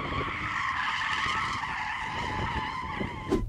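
A front tyre shrieks in a sustained, loud skid as it spins at a drag race launch, with engine roar underneath, among a BMW M8 Gran Coupe, Audi RS6, Mercedes-AMG E63 S and Porsche Panamera.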